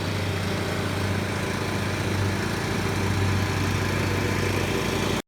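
A riding lawn mower runs steadily at full throttle while cutting grass, its engine drone close and loud and unbroken for the whole stretch before stopping abruptly at the end.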